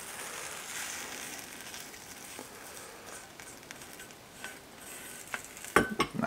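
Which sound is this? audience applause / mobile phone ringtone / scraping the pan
scraping the pan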